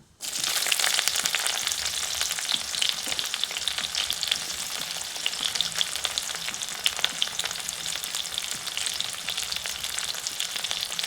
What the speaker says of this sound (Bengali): এরপর দিয়েছি পেঁয়াজ কুচি।